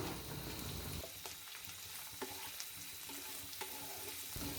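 Chopped capsicum hits a hot frying pan alongside oyster mushrooms, setting off a loud, steady sizzle broken by a few sharp clicks of stirring, with no voices.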